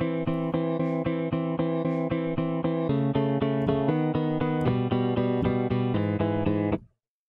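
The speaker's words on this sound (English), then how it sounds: "you're playing two strings at once, which sounds kind of like this" Guitar double stops, two strings played together in fifths, heard as a steady run of evenly picked dyads that keeps shifting pitch for about seven seconds, then cuts off sharply. No voices.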